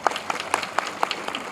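Scattered applause from an audience at a Bhim Army political rally in Hardoi, a modest patter of clapping with distinct sharp claps recurring in an uneven rhythm, moderately loud with faint crowd noise.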